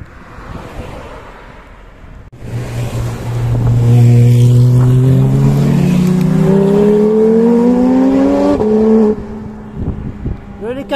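Several cars pass close by on a coastal road in Corsica between Bonifacio and Propriano, a loud rising engine drone building and fading over several seconds amid strong wind noise.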